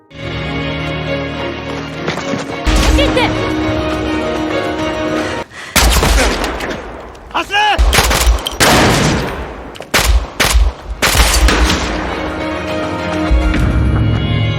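Loud bursts of gunfire, rapid automatic volleys and sharp single shots crackling over a dense, rumbling backdrop in an action film scene.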